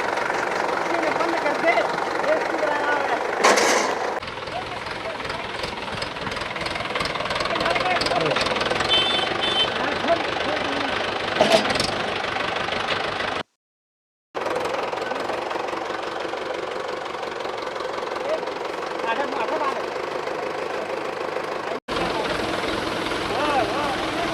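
A tractor engine chugs loudly and steadily while hauling a tree into a farm field in India, with a rough knocking drone that cuts out briefly midway. Voices talk over the engine noise.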